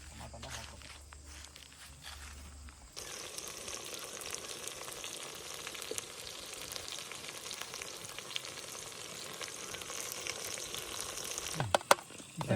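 Tomatoes hit a hot pan and a loud, hissing sizzle starts abruptly after a quieter opening. The steady frying continues close by, with a few sharp clatters near the end.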